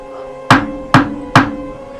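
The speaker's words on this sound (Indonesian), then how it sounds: "Terdengar suara ketukan pintu di rumah kami malam itu." Three sharp, evenly spaced knocks on a house door late at night, loud and close, with no voices.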